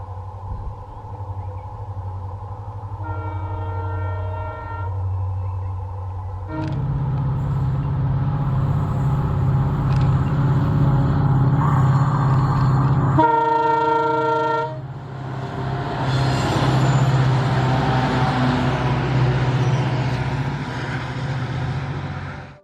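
Freight train hauled by diesel locomotives on a hot-day climb of the Shindawane ghat, a loud continuous heavy engine drone and rolling wagon rumble with horn-like tonal blasts, steady and close throughout.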